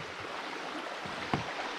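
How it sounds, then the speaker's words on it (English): Small woodland creek running beneath a footbridge with a gnarled wood railing on a mountain trail, a soft continuous trickle and wash with one brief knock partway through. "it just heads right over this nice little creek."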